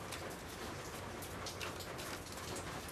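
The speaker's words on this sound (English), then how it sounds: "Listen to that rain." Rain pours down in a continuous soft hiss with scattered drop patter, fairly quiet and unbroken, with no one speaking.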